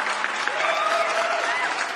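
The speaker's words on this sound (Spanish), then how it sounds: "dándole su fuerte aplauso siempre a la Gata Fiera" Audience applause on a live stream show, a steady wash of clapping held for about two seconds at a constant level, with a faint voice or tone threading through it.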